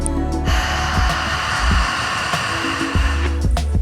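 A slow, deep, loud exhale during a box breathing relaxation exercise fills the clip, a rushing breath close to the microphone that surges and eases over several seconds with no talking.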